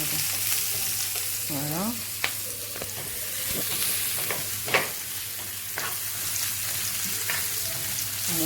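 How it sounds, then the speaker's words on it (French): Onion, garlic, ginger and a handful of cumin fry gently over low heat in a pan, with a steady crackling sizzle and a few stirring knocks. A voice speaks briefly over it. "on fait revenir l'oignon, l'ail, le gingembre et puis on a mis une poignée de cumin"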